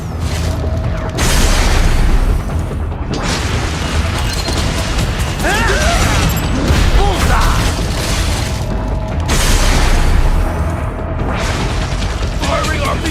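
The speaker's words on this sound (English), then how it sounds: "Firing RPG!" An RPG rocket launcher firing in Metal Gear Rising: Revengeance on PS3: loud, booming blasts and crashing impacts over a constant roaring din, with voices shouting in the mix.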